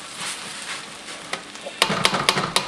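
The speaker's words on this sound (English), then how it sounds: "Yeah, nice sizzle." Beef fried rice sizzling in a hot pan, a steady frying hiss broken by several sharp scraping stirs toward the end, close and fairly loud with no talk.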